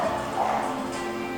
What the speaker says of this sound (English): There go the barking dogs